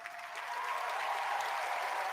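An audience at a video game awards show applauds an orchestra, a steady, fairly faint wash of clapping with a sustained musical tone underneath, with no talk.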